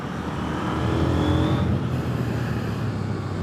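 A KTM 890 Duke R naked middleweight motorcycle engine drones steadily while riding, a moderately loud sustained engine and wind noise with a brief rising whine partway through, no voices over it.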